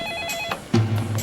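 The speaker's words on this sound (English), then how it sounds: "the phone rang." A telephone rings with a short bright electronic tone at the start, followed by low rumbling music in a crime documentary reenactment.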